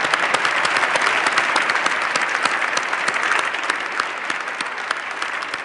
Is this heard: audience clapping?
yes